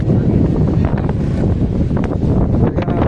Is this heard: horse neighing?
no